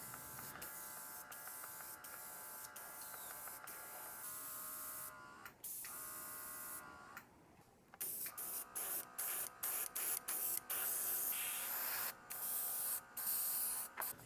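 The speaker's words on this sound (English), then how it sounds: "I like to use this battery-powered airbrush when I get a chance" Battery-powered airbrush spraying paint onto diorama terrain, a close buzzing hiss that runs steadily and then switches on and off in short bursts with quiet gaps, no voices.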